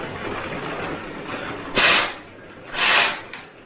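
Compressed air blown through an airbrush nozzle to clean it, two short sharp hissing bursts, each about half a second long, standing out over a steady background hiss.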